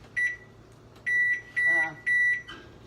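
A kitchen timer gives four short, loud electronic beeps in an uneven rhythm while someone sets it during dough-making for Bavarian kraut crullers, with a faint voice underneath.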